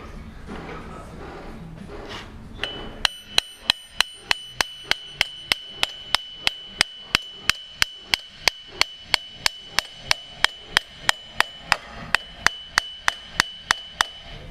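Repeated hammer blows drive an extended axle onto its splines on a Raptor 125/250 ATV, about two sharp metallic strikes per second in a steady rhythm, loud and close, after a brief stretch of talk.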